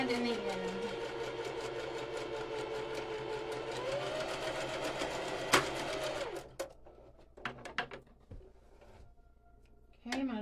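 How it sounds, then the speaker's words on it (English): A sewing machine stitches a fabric water bottle holder from one corner to the other, a steady close whirring run for about six seconds before stopping, followed by short bursts and handling noises. "So I'm going to sew it from that corner to that corner."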